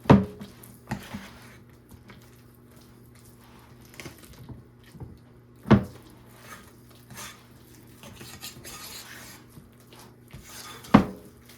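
Fathead pizza dough mixed by hand in a bowl, soft squishing and kneading with a few sharp knocks against the bowl, close and fairly quiet, no talking.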